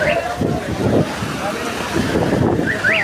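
Strong wind gusts through a rainstorm along the Gazipur main road in Bangladesh, a steady, close buffeting rush with rising swells, while people talk over it.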